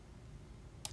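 Computer mouse clicking while setting up an Allen Bradley PanelView 800 HMI connection, two sharp close clicks near the end after near-silence.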